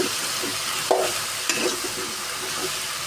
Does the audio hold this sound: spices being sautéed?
yes